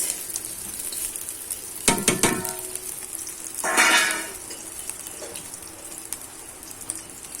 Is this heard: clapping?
no